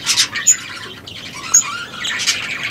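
Parrots kept by a breeder chirp and squawk at close range, with short sharp calls repeating in quick bursts against a steady background hiss, with no talking.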